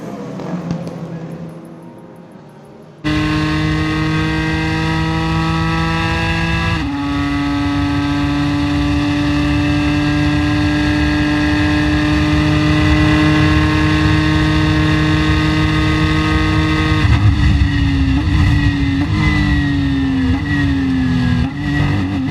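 Ford GT race car at the Le Mans 24 Hours, its engine holding a loud, steady high-pitched drone from close range, with gear changes and rising revs late as it slingshots past a Ferrari; no talk.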